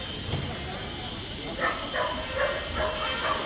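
Farm dogs at a farmer's market bark in a run of several sharp yaps in the latter half, moderately close, over steady crowd hiss and people talking.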